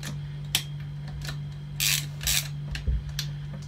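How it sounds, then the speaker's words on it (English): Hold-down bolts on a short shifter for a W58 or R154 transmission in a Soarer Z30 / Lexus SC300 being tightened with a ratchet, giving several short, sharp clicks and bursts of ratcheting over a steady low hum. "with these hold down bolts, they don't need to be super tight. If you just do them down quite firmly."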